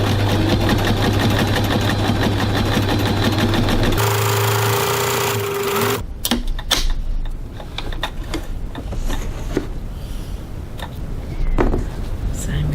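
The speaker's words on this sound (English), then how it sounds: "I'm going to top stitch approximately 3 millimeters, 1/8 of an inch" A sewing machine topstitches about 3 mm from a seam on a crossbody bag, a loud continuous whirring run that stops after a few seconds, followed by quieter handling clatter and a voice talking.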